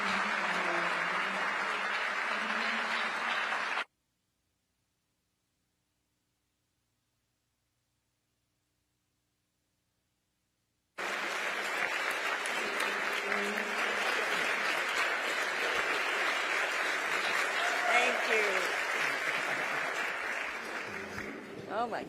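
Loud audience applause welcoming Senator Stabenow at a Detroit Economic Club event, sustained clapping from a large crowd that breaks off and then resumes strongly.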